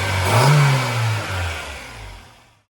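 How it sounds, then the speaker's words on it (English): An Acura Integra engine with an open throttle body revs loudly, a swelling intake roar that peaks early and then winds down as the engine settles and fades out, with no talk over it. "And that also gives us a bonus of some open throttle body sound."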